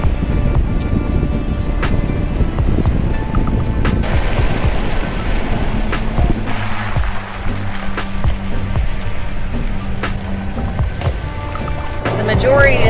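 Loud, continuous rush of turbulent floodwater overflowing a ditch fills the scene, broad and churning, with wind buffeting the microphone and faint voices in the background.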